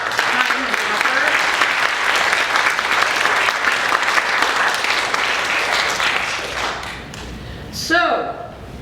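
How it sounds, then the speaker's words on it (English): Applause from the audience at a writers' group short story contest awards event, a steady dense wash of clapping that carries on for about seven seconds and then tapers off, with a brief voice near the end. "let's applaud each and every person who went ahead and entered."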